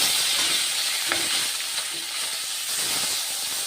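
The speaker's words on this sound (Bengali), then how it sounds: "পাবদা মাছগুলো ভেজে নিই" Pabda fish frying in a pan of hot oil, a continuous bright sizzle with occasional pops and stirring sounds, close and steady with no voices.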